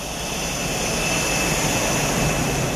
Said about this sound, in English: The Americans had built an invisible plane.